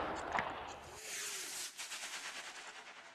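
Rifle volley fire in a Rorke's Drift Anglo-Zulu war video game, a sharp distant crack early on, then a quieter rapid stutter of gunfire fading under the game's ambience.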